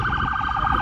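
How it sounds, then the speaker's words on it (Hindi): A police car siren wails steadily on a downtown Toronto street, loud and close, filling the entire short moment with its oscillating tone. "ये पुलिस आ रही है"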